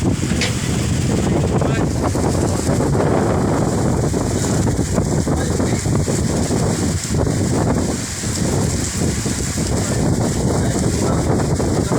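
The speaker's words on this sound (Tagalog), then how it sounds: "Grabe na hangin dito." Strong northeast monsoon (amihan) wind in the Philippines roars steadily into the microphone, a constant broadband rush with gusty buffeting throughout.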